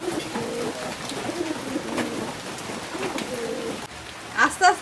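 Pigeons feed on a rainy day, with soft repeated cooing near at hand over a steady patter of rain. A few brief louder sounds come at the end.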